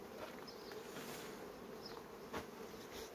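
Honeybees from a hive colony hum in a steady, continuous drone, close by and fairly quiet, with a few individual bees buzzing past.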